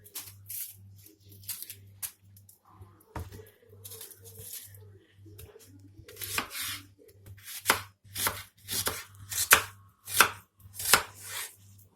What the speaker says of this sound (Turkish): Sonra iki soğan iki biber doğruyorum.